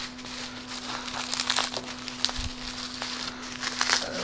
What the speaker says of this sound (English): Now the question is, how well is the bubble wrap taped?